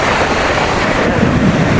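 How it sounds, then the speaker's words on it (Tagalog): A strong river current rushes past, carrying bottles and other garbage; a steady, loud wash of churning water and wind buffets the microphone throughout. "kita niyo po yung agos na yan ay grabe yung agos"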